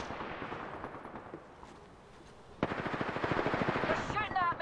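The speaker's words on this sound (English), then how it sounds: "They're shooting at me." Gunfire in the video game Apex Legends: quieter scattered shots at first, then a loud, rapid automatic burst of closely spaced rounds, with brief game sound effects at the end.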